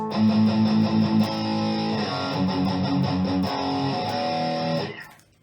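Distorted electric guitar chugs palm-muted power chords with repeated downstrokes, a thick, sustained, buzzing tone with shifting chord changes that rings out and fades away at the end.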